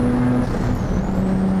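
A turbocharged Mazda RX-7 street racing in the 1990s gives a loud, continuous engine drone with a thin turbo whistle rising and falling over it.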